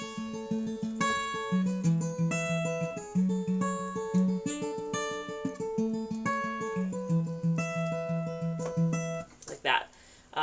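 Acoustic guitar finger-picks a slowed verse pattern, with clear alternating bass notes and plucked treble strings in an even, moderate rhythm, played solo and close, ending with a short spoken word.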